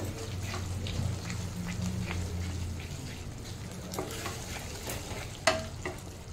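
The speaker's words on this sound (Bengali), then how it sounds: "এই স্টকটা দেওয়ার পরে আবার একটু ভালোভাবে কষিয়ে নেব" Mutton masala sautés in a pan with added mutton stock for biryani, a continuous close sizzle with frequent spoon stirs and scrapes, one sharper knock near the end, no talk.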